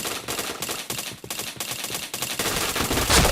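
Rapid automatic gunfire in a shooting video game, a dense continuous stream of shots that stays loud and close throughout, building slightly toward the end.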